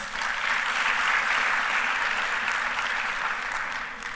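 Sustained applause from a conference audience at a renewable energy expo, steady clapping throughout that tapers slightly toward the end.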